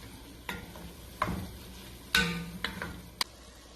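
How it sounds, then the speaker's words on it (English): Tomato being stirred in a frying pan while cooking Vietnamese meatballs: a few sparse scrapes and clinks of a utensil over a faint, low sizzle, close and quiet. "and then we're going to add in the tomato. And we're going to stir it."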